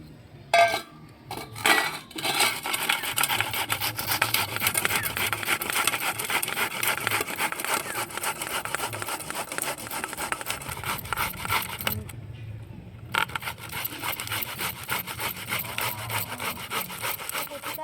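Raw taro being cut into small pieces with a kurani scraper, a long run of steady rasping, scraping strokes on wood with faint metallic clinks, close and continuous, broken by two brief pauses.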